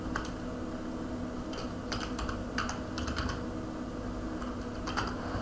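Rapid, light clicking of keys on a computer keyboard, an irregular patter of taps over a steady room hum, with no talking.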